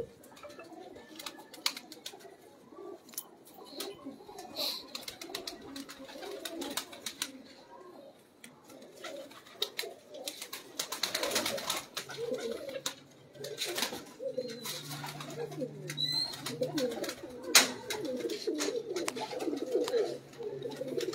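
Fancy pigeons kept by a hobbyist cooing repeatedly in a loft, soft rhythmic coos layered with flapping, rustling and a few clicks, with faint voices talking in the background.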